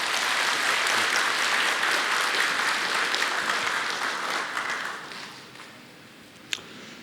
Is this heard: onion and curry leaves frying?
no